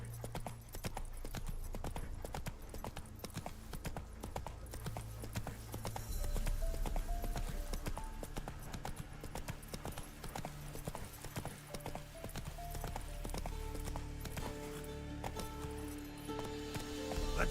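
The horse Roach gallops in The Witcher 3: Wild Hunt, a steady, rhythmic clip-clop of hooves running continuously at close range over a bed of game music and ambience.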